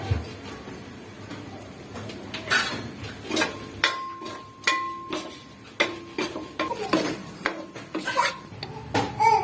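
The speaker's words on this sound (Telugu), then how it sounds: "ముందుగా రైస్ ని నూనెలో కలుపుకోవాలండి, ఎందుకంటే పొడి పొడిగా రావాలి" Soaked rice stirred into oil in a metal pot for bagara rice, irregular scraping and clinking knocks of a spoon against the pot, close, with sparse pauses and no talking.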